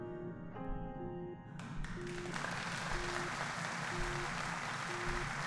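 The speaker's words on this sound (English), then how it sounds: "Thanks for the applause, guys." Applause heard within a space-exploration video game, a sustained wash of clapping that swells in after a second and holds steady under a repeating tonal musical beep pattern.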